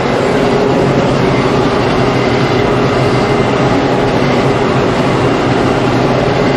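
A tractor runs hay equipment at about 1800 RPM in a field, producing a loud, steady, dense rumble with a mechanical clatter that stays constant throughout.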